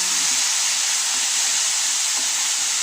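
Tomatoes added to a hot pan with garlic and red onion for red spaghetti sauce, giving a steady, loud sizzling hiss throughout without a break.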